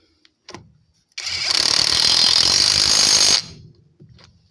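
A REVOLT TW 20/350 cordless impact wrench tightens a nut, with a couple of short clicks before a loud two-second burst of rapid hammering whir, then a brief stop and one more tap.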